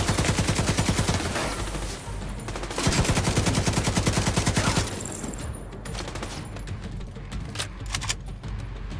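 Rapid automatic gunfire in The Division 2 video game, loud and dense sustained bursts with brief pauses, followed by sparser single shots and scattered reports.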